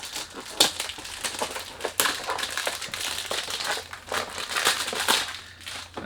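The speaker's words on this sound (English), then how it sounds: "Okay, let's unbox it." Loud crinkling and crushing of a fragrance box's cardboard and plastic wrap during unboxing, with irregular rustles and sharp crackles running the whole time, close up and with no talking.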